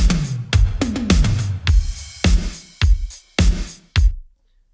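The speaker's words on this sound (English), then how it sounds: "So if we have a listen with only one hat and just the drums," Synthwave drums alone, punchy kicks and booming gated snares with a single hi-hat sample on offbeat eighth notes, each hit ringing briefly before the next; close and loud, ending in silence.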